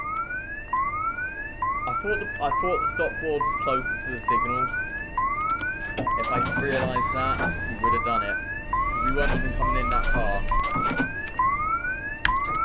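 A repeating rising electronic station alarm in the OpenBVE train simulator sounding on the Jubilee Line route, a steady cycle of upward-sweeping tones roughly once a second, with someone talking over it.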